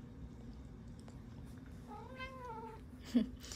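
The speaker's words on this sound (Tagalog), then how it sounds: "I love when you meow, meow, meow, meow." A pet cat lets out a single drawn-out meow against a quiet room, with a few faint soft sounds around it.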